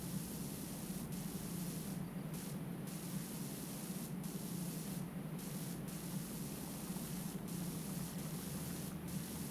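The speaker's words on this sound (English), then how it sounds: "sometimes blasting with the heavy sprayer is very cool and very fun" Heavy pressure-washer spray in the video game PowerWash Simulator, a steady loud hiss of rushing water running throughout with brief dips in the spray, and no talk.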